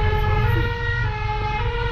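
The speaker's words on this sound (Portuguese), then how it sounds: "ao escutarem os sinais sonoros emitidos pelas viaturas" A fire department emergency vehicle siren in Cianorte sounds loud and close as a steady, sustained tone rich in overtones, running continuously over a low road rumble with no voices.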